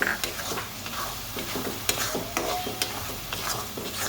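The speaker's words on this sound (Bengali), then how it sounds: "এখন এটা আমি অনেকক্ষণ ভালোভাবে কষিয়ে নেব" Spice paste and chicken sizzling and frying in a pan while being stirred, with steady crackling and repeated scraping strokes of the spoon close by.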